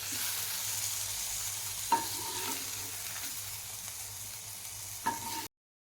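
Quiet, steady sizzling from a pan as tomato is lightly roasted, broken by two sharp clinks of a utensil stirring against the metal.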